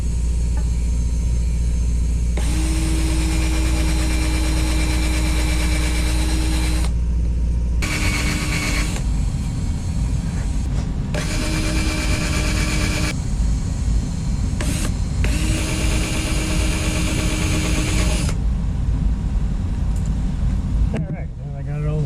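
Loud, close drilling as a steel plate is center drilled, in several long bursts with short pauses between them, a high steady whine over a low rumble, with talking in the background.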